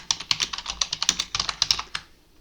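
Quick bursts of keystrokes on a computer keyboard as text is typed into a design program, close and clear, in an uneven rhythm of about a dozen taps over two seconds before stopping.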